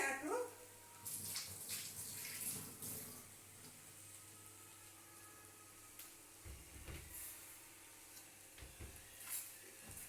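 Water runs from a tap as hands are washed during cooking, a soft splashing rush with a few louder gushes and clinks, close by but quiet.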